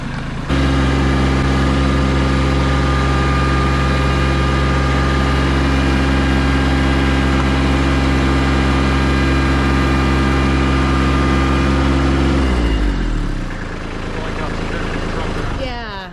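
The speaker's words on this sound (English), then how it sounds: "Will the pallet break when he tries to pull this water tank with the tractor?" Tractor engine pulling a water tank on a pallet, a loud, steady, close engine drone that holds for most of the time, then shifts pitch and falls as the load moves.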